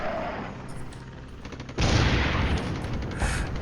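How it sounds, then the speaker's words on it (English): Heavy 120mm mortars fire in the Cold War wargame Flashpoint Campaigns. A steady rumble of distant fire jumps into a dense, loud roll of booming impacts partway through and keeps thundering to the end. "Is that heavy mortars?"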